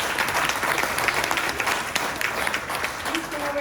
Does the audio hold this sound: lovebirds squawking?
no